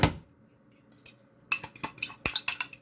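Chicken being mixed with a marinade in a bowl, heard as a run of close clinks and scrapes from a utensil against the dish, sparse at first and then quick and repeated.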